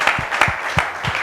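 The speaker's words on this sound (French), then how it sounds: "On applaudit bien fort." Audience applause at a youth event, a crowd clapping steadily in a short burst with no talk over it.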